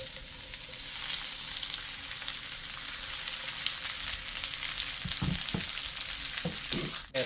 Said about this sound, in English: We're going to let our butter melt first.